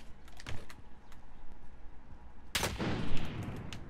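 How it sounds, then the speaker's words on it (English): Gunfire in the battle royale shooter Warzone: a few faint distant pops and clicks, then one sharp, loud shot crack followed by a short rumbling echo and scattered further reports. "I'm getting sniped from behind"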